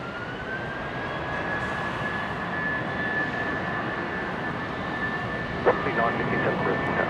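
A jet airliner on runway 19 right at Brisbane International Airport, heard as a steady broad engine roar that holds loud and even throughout, with a brief sharper sound near the end.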